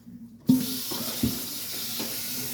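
Green beans being rinsed under a steady stream of running tap water in a sink, a continuous close splashing hiss with a few louder gushes as the beans are moved, no talking.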